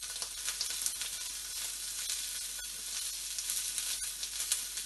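Bánh xèo batter sizzles in a hot pan with a steady, bright frying hiss and scattered small pops and crackles, and no voices over it.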